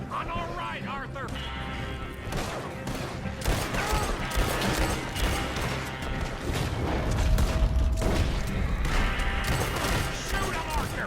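Gunfire from a Red Dead Redemption shootout rattles as a dense fusillade of shots, booms and crashes over a continuous game soundtrack, with characters shouting throughout.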